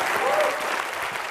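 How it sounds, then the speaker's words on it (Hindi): Studio audience on a Hindi comedy show breaks into loud, sustained applause, a dense wash of clapping that stays steady and close for the whole stretch. "जोरदार तालियां होनी चाहिए।"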